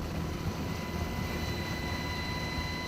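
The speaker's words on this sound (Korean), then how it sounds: "헬기가 굉음을 울리고 있다." A military helicopter roars over a tactical training ground during a Korean counter-infiltration exercise. Its loud, unbroken engine and rotor drone stays constant throughout.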